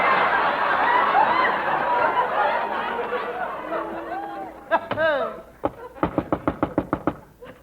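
A door is banged on in an Abbott and Costello comedy sketch: audience laughter and chatter give way to a quick run of loud, sharp knocks, about ten in close succession.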